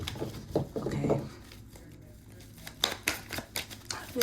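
Soft riffling and flicking of a deck of cards being shuffled up close for a tarot-style reading, in short uneven bursts with a quiet pause between, a voice faint underneath.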